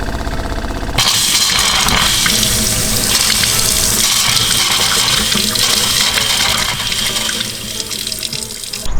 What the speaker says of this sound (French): Donc c'est parti, on teste le système d'eau.